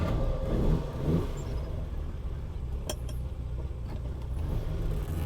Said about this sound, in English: let's take this car out for a little bit of a drive